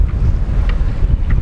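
Strong wind gusts roar around a small boat at sea, a loud, steady rumble of buffeting with a faint slap of water underneath.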